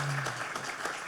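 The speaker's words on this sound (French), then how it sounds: "on l'applaudit très fort" Audience at a trading trade show talk show award presentation applauds, a short, dense burst of clapping heard close, with a low hum underneath.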